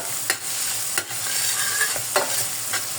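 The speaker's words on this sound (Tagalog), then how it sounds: "prito lang natin yung bawang" Garlic frying in a pan for a chicken dish, a steady bright sizzle with the scrape of a utensil stirring a few times at irregular intervals, close and alone.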